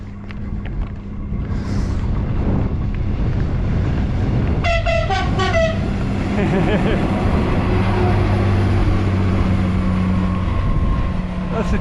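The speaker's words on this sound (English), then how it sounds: "That's the train I should have caught." A train runs on the modern Valencia–Teruel railway line in Spain, a loud continuous rumble with a brief multi-tone horn blast, heard alongside strong wind buffeting the microphone.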